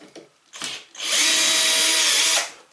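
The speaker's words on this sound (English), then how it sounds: "I highly recommend a drill" A power drill driving screws whirs steadily for over a second, loud and close, after a couple of short mechanical clicks and bursts.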